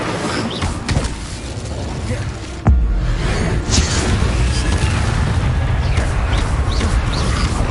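Fire spells cast in Hogwarts Legacy, Incendio and Confringo, produce a dense, roaring rush of flame and blasts, with a sudden heavy boom partway through and voices talking over the din.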